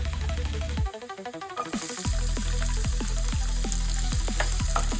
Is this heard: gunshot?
no